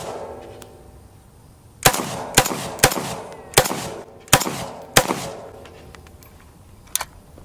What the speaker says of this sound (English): Alright, up next is the Mini 14.